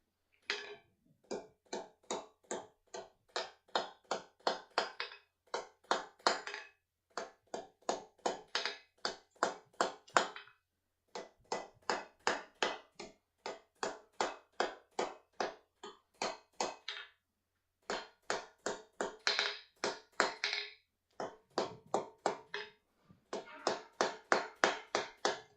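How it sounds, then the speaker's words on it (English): A small hammer taps repeatedly in quick, rhythmic bursts of about eight to twelve light strikes, separated by short pauses, steady and fairly quiet with no talking. "We'll try this one with just the small hammer."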